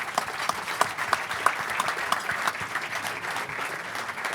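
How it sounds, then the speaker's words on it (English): A conference audience applauds at the close of a panel on nature-positive solutions, a dense, even patter of many hands that holds steady throughout at moderate loudness, with little talk. "A big applause to all of you"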